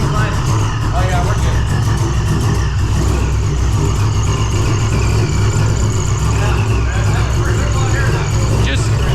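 A supercharged C6 Corvette engine with an ECS supercharger kit runs loudly at a steady idle, a deep continuous rumble, with people talking over it.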